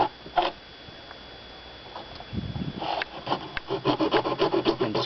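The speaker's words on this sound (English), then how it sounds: "So any old hacksaw blade will do." A hacksaw blade rasps back and forth through the slots of a plastic pool deck drain, close and steady, the strokes speeding into a quick regular rhythm toward the end.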